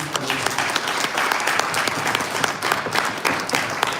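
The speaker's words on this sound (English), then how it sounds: "Please, another round of applause" Steady, dense applause from a large crowd, clapping continuously at an even loudness throughout.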